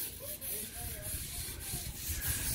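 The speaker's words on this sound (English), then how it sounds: "we've got one guy inside smoothing off my stairs" Steady close rubbing and sanding as a worker smooths down a staircase inside a house under construction, a continuous scratchy hiss without pauses.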